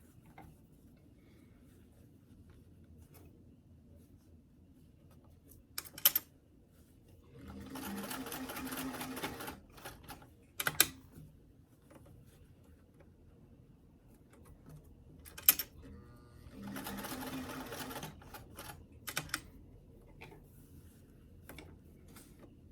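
A sewing machine stitches a doll dress seam at the shoulder in two short, fast bursts, each a few seconds long, with soft clicks and handling noises in the quiet gaps between.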